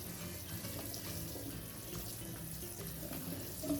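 Tap water running steadily into a sink while already-cooked white hominy for pozole is rinsed, a continuous close splashing wash with no talking.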